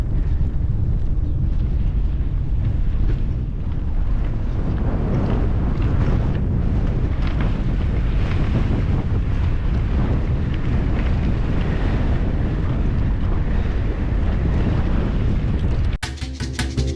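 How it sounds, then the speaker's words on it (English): Steady, loud wind buffets the microphone along a coastal path leading out to a pier, a continuous roar with gusts and no speech. "Windy, but not too bad."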